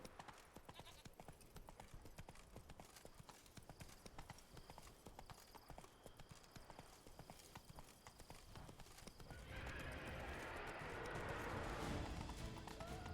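Roach the horse gallops in The Witcher 3, with a fast, dense run of hoofbeats close by, and a brighter rushing layer joining over the final few seconds.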